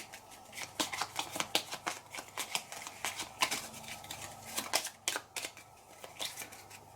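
Quick, soft papery snaps and slides of playing cards being drawn and dealt from a Bangkok board game deck, a rapid irregular patter up close and quiet.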